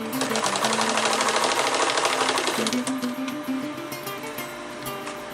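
An industrial sewing machine stitches a bar tack on the bottom of a roll-up backpack, a loud rapid needle chatter running steadily through the first half and then easing into lighter, slower stitching.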